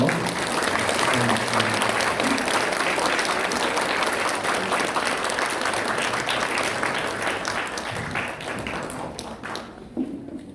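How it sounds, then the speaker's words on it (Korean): A church congregation claps steadily at an anniversary service for retiring and newly ordained officers, dense applause filling the room at even volume before tapering off near the end, with a voice faintly heard beneath. "큰 박수로"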